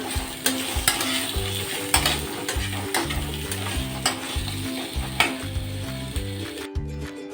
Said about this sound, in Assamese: এই আলুখিনি ফ্ৰাই কৰি হৈ গ'ল